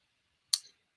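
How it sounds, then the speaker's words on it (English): A computer mouse gives one quiet, sharp click in an otherwise silent moment. "I am clicking on."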